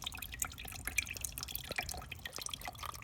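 Water drips and trickles out of the oil filter housing of a waterlogged, rusted Yanmar boat engine, a close, irregular patter of small drops and splashes with no voices.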